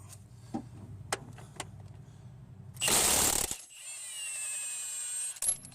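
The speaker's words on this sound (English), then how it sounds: "using this 22mm high mass impact socket does a wonderful job of taking this pulley bolt off" An impact wrench with a 22mm high mass impact socket hammers off the crankshaft pulley bolt on a Toyota Highlander Hybrid V6 3MZ. One loud, harsh burst is followed by a steady whine after a few faint ticks.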